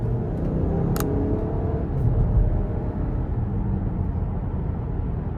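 A 2023 Buick Envision Avenir accelerating under throttle, heard from inside the cabin as a steady, close engine-and-road rumble that swells slightly partway through, with no talking.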